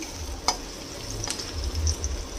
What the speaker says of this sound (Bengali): পেঁয়াজটা হালকা ট্রান্সলুসেন্ট করে ভাজা হয়ে গেছে।